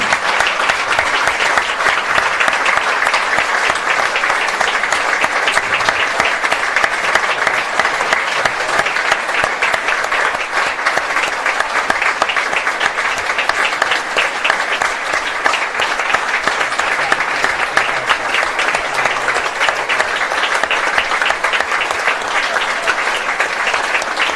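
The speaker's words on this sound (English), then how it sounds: "A minute's applause, please, ladies and gentlemen." A football crowd at a club match between Albion Park City FC Invitational XI and Wollongong Wolves gives a minute of applause, a steady, dense clapping that fills the ground without letting up and has no talk over it.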